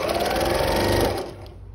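A longarm quilting sewing machine stitches a zipper onto quilt fabric, a loud, fast, even mechanical hum of rapid needle strokes up close that runs steadily and then tapers off.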